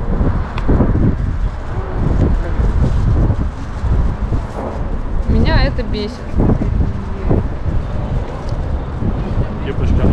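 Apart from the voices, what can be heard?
wind blowing outdoors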